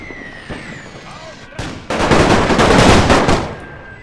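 Rifle and artillery fire in a World War 1 Total War battle, with scattered shots and booms giving way to a loud, sustained crackling volley of gunfire that lasts about two seconds before easing off.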